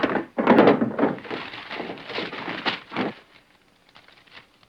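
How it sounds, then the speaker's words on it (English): A desk drawer is pulled open and rummaged through, giving a cluster of wooden thunks, knocks and rattling shuffles over about three seconds before falling to quiet. "Right here in my drawer."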